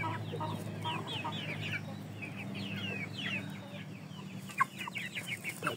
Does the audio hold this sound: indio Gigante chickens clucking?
yes